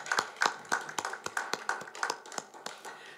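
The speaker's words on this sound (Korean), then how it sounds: "주님께 먼저 우리 감사의 박수를 올렸고요" Scattered, fairly quiet hand claps from a church congregation at a Christmas service, about a dozen distinct sharp claps in an uneven rhythm, close and unaccompanied by talk.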